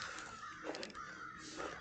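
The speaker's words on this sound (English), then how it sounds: "There's my crows. I love those black crows." Black crows cawing outdoors in snow, a few faint distant caws under a steady background hiss.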